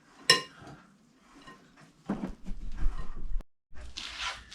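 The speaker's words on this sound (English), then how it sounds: "give it a good mix up to make sure the ingredients are thoroughly mixed" Courgette ball ingredients being mixed in a bowl, with a sharp clink, soft scraping and a run of mushy stirring and squelching, close by and fairly quiet.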